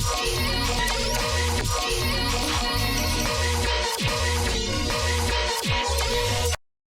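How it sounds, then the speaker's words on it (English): A dense electronic bass loop, chopped into a choppy repeating rhythm with punchy hits, plays loudly and cuts off abruptly at the end. "I just took that resampled bass thing that I made, and I chopped it up into a rhythm"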